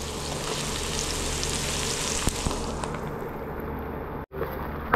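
Onion and ginger sauté together in a hot pan with a constant close sizzle, a few sharp taps of the utensil partway through, and a sudden brief cut-out near the end.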